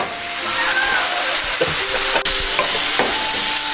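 Ramen ingredients tossed and frying in a cast iron pan, with a loud continuous hissing sizzle and a few scraping clatters as the food is flipped.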